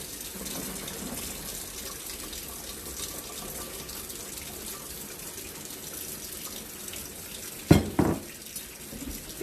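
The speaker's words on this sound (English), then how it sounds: "And then we're just going to add our water to it." Water pours steadily from a tap into a jug of Southern sweet tea, a continuous rushing stream with a few louder splashes near the end and no talking.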